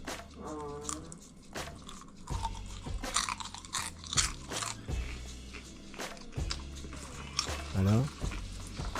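Homemade salted butter caramel popcorn crunched while eating, a series of close, crisp bites and chewing bursts with a voice murmuring in between.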